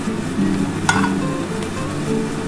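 A small amount of ghee heats in a kadai, giving a steady low sizzle close up, with a single sharp metallic clink partway through.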